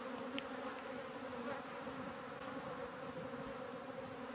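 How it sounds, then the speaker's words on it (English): Bees swarm steadily at a hive built inside a water meter box, a dense, continuous close buzz with no pauses. "There's a bunch of bees putting pollen and nectar in there"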